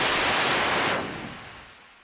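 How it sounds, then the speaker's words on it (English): White noise from a Eurorack modular synthesizer hisses as a loud, bright wash, then its top end drops away as it is filtered and fades out smoothly. "take white noise, bring that into the other input"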